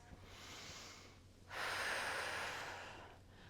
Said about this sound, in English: taking nice deep breaths